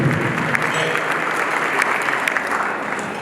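A dense round of applause fills a hall at the DuSable Heritage Association gala, steady clapping from a sizable crowd that fades slightly at the end.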